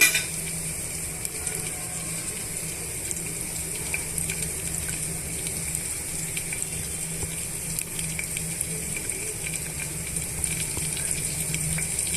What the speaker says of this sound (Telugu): ఈ పోపు గింజలన్నీ కూడా బాగా వేయించేస్తున్నాము